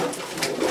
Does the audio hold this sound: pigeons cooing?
yes